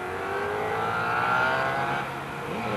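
Sports racing cars at a 1980 national championship roar past on track, engines revving loud and close with a falling pitch as they pass, several cars in quick succession.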